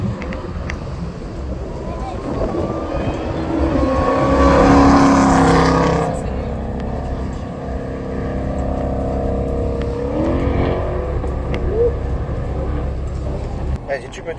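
A sports car downshifts on a race track, its engine note rising and swelling to a loud peak, then settling into a steady drone, heard from inside the car with a voice speaking over it.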